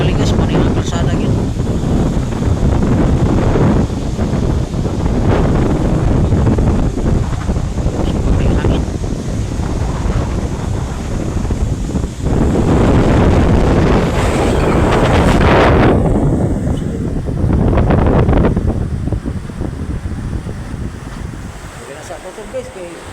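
Strong typhoon wind roars over a road turned into a flowing stream in Consolacion, Cebu, during Typhoon Tino, buffeting the phone microphone in loud, surging gusts with rushing water beneath, easing slightly near the end.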